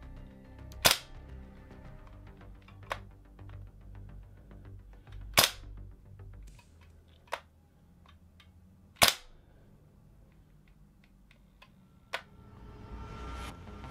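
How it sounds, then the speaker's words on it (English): Umarex VFC MP5 SD3 gas blowback airsoft trigger resetting with a deep, positive clunk, heard as several sharp, isolated mechanical clicks spaced a few seconds apart over a quiet background. "After the break, it pulls your finger back forward with the spring tension, and gives off a deep positive clunk as it resets."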